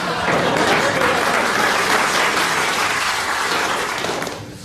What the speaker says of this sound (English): All that clapping.